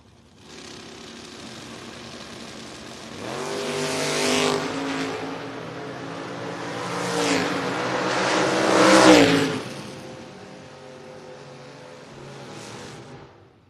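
A 1968 Camaro and a Dodge Dart launch in a drag race, engines roaring loudly from a distance and swelling through repeated high-revving bursts before fading away.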